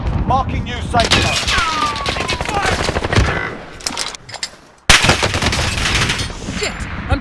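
Rapid automatic gunfire and bursts of shots in the video game Call of Duty: Warzone, loud and close, running almost continuously with a brief dip before resuming, with voices calling out over the battle.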